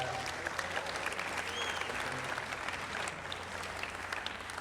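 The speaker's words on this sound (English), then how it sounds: "Can we have a round of applause for that?" Steady applause from an audience at an Everett Public Schools Foundation fundraising event, a dense crowd clapping continuously and evenly throughout with a faint murmur of voices underneath.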